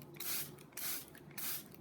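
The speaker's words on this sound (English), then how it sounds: "I'm going to spray my whole paper with water first." Spray bottle misting water across watercolour paper in three quick bursts, each a soft hissing spritz, close and fairly quiet with short pauses between.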